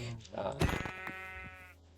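A white sheep in the Minecraft video game gives one short bleat, close and fairly quiet, with a faint voice underneath.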